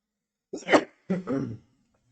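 Two rough, throaty coughs in quick succession, close and fairly loud, with a short pause between them and silence around.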